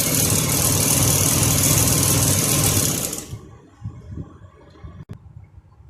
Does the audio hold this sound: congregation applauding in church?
no